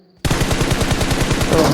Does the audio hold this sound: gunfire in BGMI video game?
yes